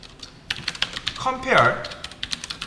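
Someone types C code on a computer keyboard, close rapid key clicks in uneven bursts, with a voice speaking briefly in the middle.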